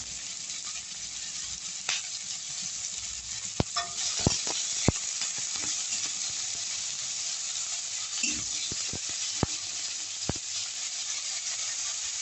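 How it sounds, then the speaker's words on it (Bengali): Onions and green chilli frying in a pan, a constant close hiss of sizzling oil with occasional sharp clicks and taps of a spatula against the pan, no one speaking. "এবার এই পেঁয়াজ আর কাঁচা লঙ্কাটা একটু ভাজা ভাজা করে নেব"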